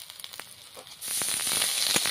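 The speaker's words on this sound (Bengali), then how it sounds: "পেঁয়াজটা আমার লাল লাল করে ভাজা হয়ে গেছে, ওর মধ্যে দিয়ে দিচ্ছি রসুন বাটা, দিয়ে দিচ্ছি আদা বাটা" Garlic and ginger paste hits onions already fried until reddish and breaks into a loud, hissing sizzle partway through, after a few quiet crackles, then keeps frying steadily and close up.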